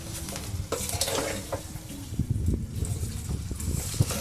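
Fried rice being mixed in a pan, with repeated scraping and clattering of a spatula against metal over a soft background hiss, close and moderately quiet.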